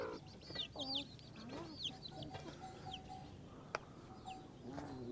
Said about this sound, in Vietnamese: Còn đúng ba con gà này các bác.